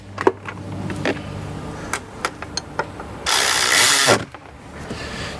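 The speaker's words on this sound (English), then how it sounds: "This ratchet's got the power of a 3/8." A 3/8 ratchet tightens a bolt on a Jeep Cherokee with a series of close, quick clicking pawl ratchets, followed by a short burst of rapid whirring ratchet action, with no talking.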